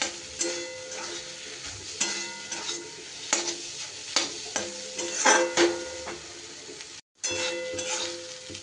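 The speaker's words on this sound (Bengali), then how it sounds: "ডিম কিন্তু খুব সুন্দর করে মশলার সাথে আমার একদম ঝুড়ো ঝুড়ো করে ভাজা করা হয়ে গেছে" Scrambled egg frying with spices in a pan, with steady sizzling under repeated spatula stirs and scrapes against the metal, close and moderately loud, with a brief pause near the end.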